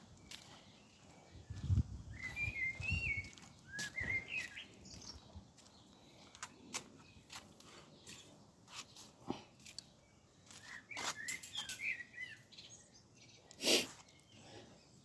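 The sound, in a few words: birds at a bird feeder outdoors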